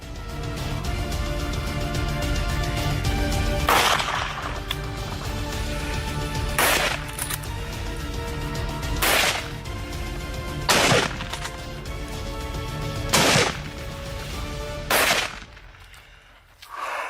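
Rifle shots ring out during a wild boar hunt: about six sharp, loud cracks spaced a few seconds apart over a steady engine-like drone.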